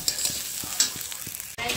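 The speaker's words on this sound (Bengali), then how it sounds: "আজকে যেহেতু পোলাও হবে সেই জন্য গাজর বিন এখানে ভেজে নেওয়া হচ্ছে" Carrots and beans frying in ghee in a pan for pulao, a continuous close sizzle broken by a few spatula stirs and clinks, ending with a brief drop and renewed hiss.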